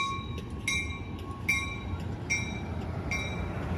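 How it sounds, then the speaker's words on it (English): Amtrak San Joaquin passenger train 710, southbound, pulling out of Modesto station behind locomotive 8306, heard as a steady low rumble with repeated short high-pitched squeals or bell-like tones recurring about every second. "now leaving Modesto Station is San Joaquin train 710, your southbound train to Bakersfield"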